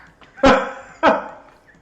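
A man imitates a dog with two short, sharp barks a little over half a second apart, close and loud, with no other talk.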